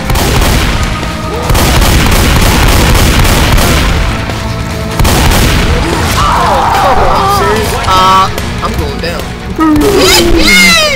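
In Left 4 Dead 2, a thrown grenade booms amid repeated gunfire crashes and blasts, loud and dense, with players talking over the chaos.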